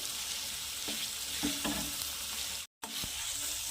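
Chole masala fries in oil and is stirred, giving a soft continuous sizzle with a few scraping strokes and a brief dropout, close and faint.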